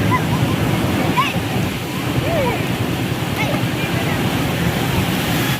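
Ocean surf rolls onto Perupalem beach as a steady, broad wash of breaking waves with a windy rumble, and people talk faintly over it.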